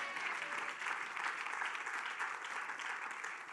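A church congregation applauds and cheers, dense continuous clapping from a crowd filling the room, steady and fairly loud throughout.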